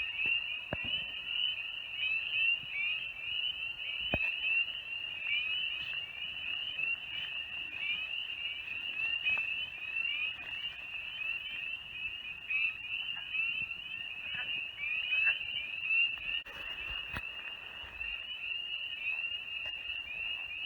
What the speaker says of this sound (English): We can hear the wood frogs calling, the barred owls calling, and obviously the peepers